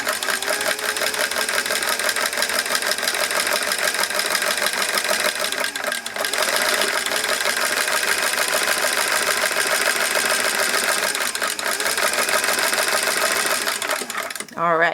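60-year-old vintage sewing machine stitching a buttonhole, with a steady, fast mechanical whirring and clatter that runs continuously, close and loud, and pauses briefly midway.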